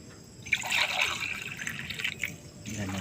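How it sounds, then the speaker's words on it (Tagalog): Water poured into a cooking pot while making Bikol Express, a hissing, splashing stream that starts abruptly, runs for about two seconds and then cuts off, close by. "Yung tansya lang po natin ang ilalagay na tubig para sakto lang po yung pagkaluto niya."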